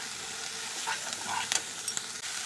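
Drumstick flowers frying with eggplant, salt and turmeric are stirred in a pan, making a steady close sizzle broken by a few brief scraping clicks.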